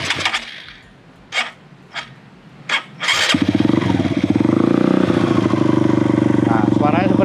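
A modified Honda Karisma motorcycle with its exhaust fully open fires up after a few clicks and clatters, then runs in a loud, rapid, raspy burble at close range while a voice speaks briefly near the end.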